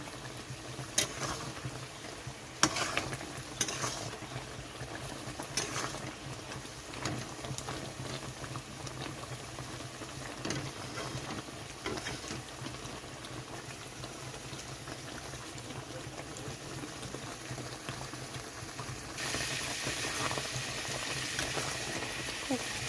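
Mango pieces boil in sugar syrup for a sweet homemade mango pickle, making a soft, low bubbling and gentle patter that carries on throughout, with a few louder pops early on.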